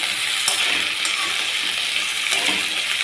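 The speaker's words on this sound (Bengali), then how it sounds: "আলু আর ফুলকপিটা একটু প্রথমে আগে ভাজা ভাজা করে নিই।" Potatoes and cauliflower frying in oil in a pan, a steady close sizzle running through with a few brief clinks of a utensil against the pan.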